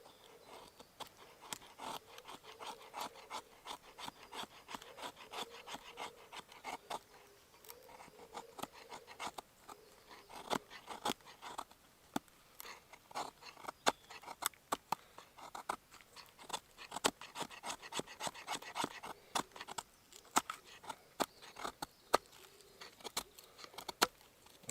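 Knife carving wood in a pine forest, with finer work on the blade: a steady stream of short scraping and shaving strokes, close and fairly quiet, with no talk.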